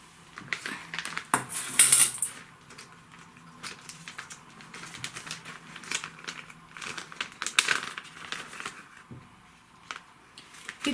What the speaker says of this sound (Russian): 3 ложки керамзита.